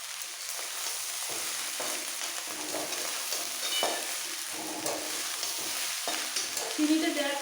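Rice is stir-fried in a pan for a festive-style fried rice pulao, a constant hissing sizzle broken by repeated scraping and tossing strokes of a spatula, close and steady, no voices.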